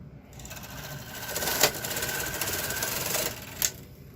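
A knitting machine ribber carriage, SK560, slides across the bed with a steady mechanical whirring rattle, with two sharper clacks along the way, moderately quiet and alone.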